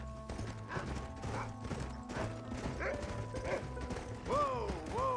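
A horse in the video game Red Dead Redemption gallops with a steady, rapid clip-clop of hooves under a low rumbling game soundtrack, with a horse-like whinny or call rising near the end.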